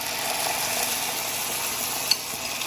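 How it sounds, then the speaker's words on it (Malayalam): Coconut milk hits browned onions in a pan, giving a steady broadband sizzle with faint stirring and one sharp clink, close and alone without voices. "ഇനി നമുക്ക് തേങ്ങാപ്പാൽ ഒഴിച്ച് കൊടുക്കാം."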